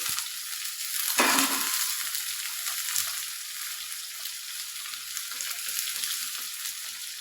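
Potatoes fry in a pan of hot oil with a steady, close sizzle that runs the whole time, and a brief stir or clatter comes near the start.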